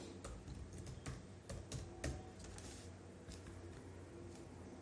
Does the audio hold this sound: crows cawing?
no